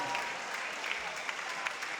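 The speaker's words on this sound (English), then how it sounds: "Applause going for Jakub Benko" Crowd applause rings out at a Muay Thai fight, a steady, dense wash of clapping and cheering filling the venue for about two seconds.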